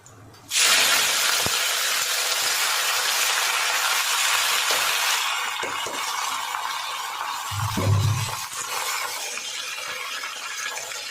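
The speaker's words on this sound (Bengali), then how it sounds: "এবার আমি এই সবজিগুলোকে ঢেলে দেবো" Vegetables hit hot oil in a pan and set off a loud, close, sustained sizzle that starts abruptly and eases slightly partway through.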